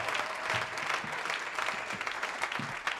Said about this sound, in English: We want to clap our hands for Jesus Christ